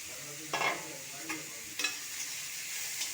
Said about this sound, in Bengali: সোয়াবিনটাকে ঠিক এইভাবে লাল লাল করে ভেজে নেবো